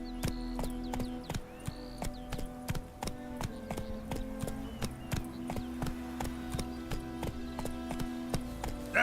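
Roach the horse trots at a steady clip-clop in The Witcher 3, hooves knocking in a quick even rhythm close by, with faint ambient game background and no talking.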